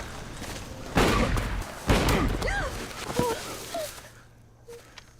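Gunfire in a film scene: two sharp, loud shots about a second apart, followed by thuds and scattered movement sounds, with tonal music-like effects fading out.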